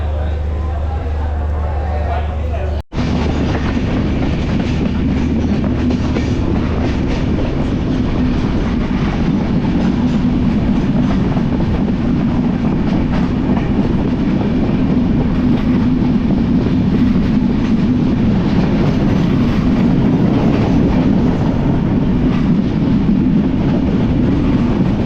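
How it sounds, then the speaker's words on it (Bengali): The Sagardari Express passenger train runs on rails in Bangladesh between Khulna and Rajshahi, a loud, continuous rumble and clatter of wheels and carriages that carries on throughout, with voices faintly mixed in. "আমাদের ট্রেন এখন আব্দুলপুর জংশনে।"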